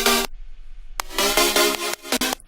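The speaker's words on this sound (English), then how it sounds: "Pretty much just have these 2 super saws. I'll play them for you, isolated each one." Isolated supersaw synth chords, a short stab followed by a pause, then a run of rhythmic chord hits, bright and buzzy, loud and alone with no voices.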